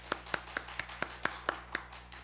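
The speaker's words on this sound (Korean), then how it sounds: "하나님께 영광의 박수 올려드리겠습니다" About ten evenly spaced, sharp claps ring out in steady rhythm from a church congregation, close and distinct over a low constant hum.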